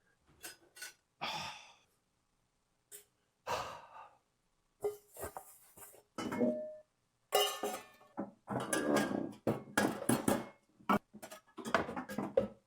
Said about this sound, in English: We're just watching them put dishes away now.